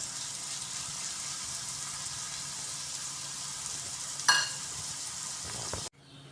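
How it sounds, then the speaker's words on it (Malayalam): Soya chunks fry in a pan over a high flame with a steady, close sizzle, broken near the end by a brief clatter of stirring before the sound cuts off. "ഇത് നല്ലോണം കുറച്ച് നേരം വലിയ തീയിലിട്ടിട്ട് അതിലത്തെ വെള്ളം വറ്റി ഒന്ന് മൊരിഞ്ഞ് വരണം"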